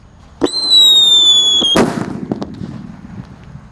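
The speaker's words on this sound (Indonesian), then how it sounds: "Mercon rambu sudah menyala" A firecracker whistles with a sharp, shrill tone for over a second, then bursts in one loud, close bang that fades into crackling echoes.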